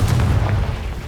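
A Confringo fire spell explodes in the Hogwarts Legacy video game, a single deep, rumbling boom that rolls on for about a second.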